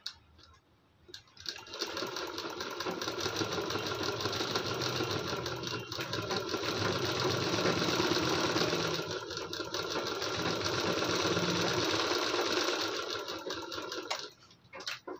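A sewing machine stitches steadily along the edge of a blouse neck design, a continuous close whirring run of about twelve seconds that starts and stops cleanly, with no talking.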